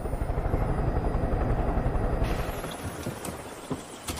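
An aircraft in the video game Far Cry 5 roars loudly as it flies in to land, then its rumbling engine fades over the last couple of seconds. A few faint clatters follow.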